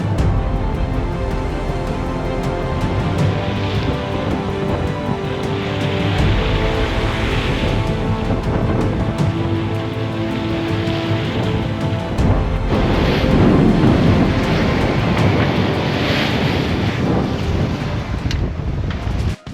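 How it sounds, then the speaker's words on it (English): Strong wind roars steadily over a heavy, rumbling wash of water, with big breaking waves surging and crashing against a sailboat at sea throughout, loud and close. "We're getting smashed by these big breaking waves."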